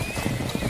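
Horse hooves clip-clop in a short burst of soft, rhythmic low thuds, set in a drama scene near water with a steady hiss in the background and no voices.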